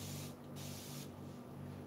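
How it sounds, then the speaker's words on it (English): A spray bottle mists water onto a kitchen cabinet, two quick close hissing bursts in a row over a steady low hum. "Let me spray this with water."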